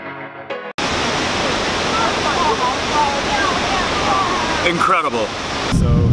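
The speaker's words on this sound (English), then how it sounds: "So here are the famous Krka waterfalls" Roaring Krka National Park waterfalls in Croatia, a loud steady broadband rush of falling water that fills the scene, with a brief voice-like sound near the end.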